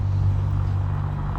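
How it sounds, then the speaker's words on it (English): Road traffic rolls past in a steady, loud low rumble with a continuous hum, cars passing close by and no break in the noise. "sorry about the traffic"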